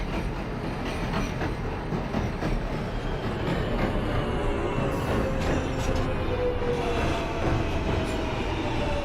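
A simulated NYC Subway R143 J local train runs in OpenBVE, giving a loud, steady roar of wheels and track noise from the car interior, with faint clicks and a thin high squeal.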